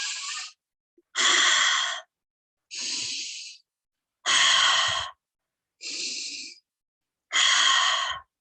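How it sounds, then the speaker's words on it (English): Slow, deep breaths during a calming breathing exercise, with six long airy inhales and exhales in an even rhythm and pauses of silence between them, close and clear. "use this breath to release any tension, breathing into that space with intention."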